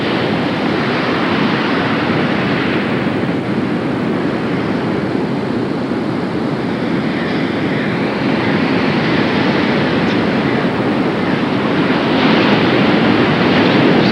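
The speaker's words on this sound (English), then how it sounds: "Sound of the surf below on the rocks" Surf breaking on rocks below a seaside golf course, a continuous loud, broad roar of waves with wind, steady throughout and without speech.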